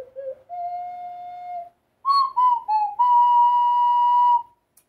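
A Tapion ocarina plays a slow, smooth melody of long sustained pure notes: two held tones, a brief pause, then a cluster of shorter notes settling into a long final tone, clear and close in quiet surroundings.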